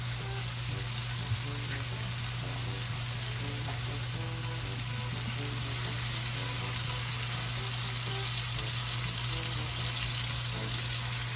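Sardines frying in a pan for sautéed cabbage, a loud, continuous close sizzle with a steady hum beneath it and faint clinks now and then.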